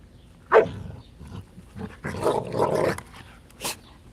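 Several dogs bark and growl in short bursts at close range, with a loud yelp early on, a dense cluster of barking in the middle and a final sharp bark, as if they are playing roughly together.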